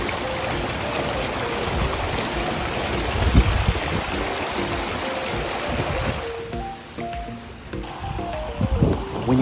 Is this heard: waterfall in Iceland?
yes